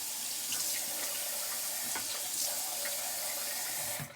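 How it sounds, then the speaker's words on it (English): A bathroom sink tap runs steadily while someone washes their face with plain water, a close, continuous splashing rush that cuts off just before the end. "So first thing I do every morning is do a little wash of the face, and I only use water."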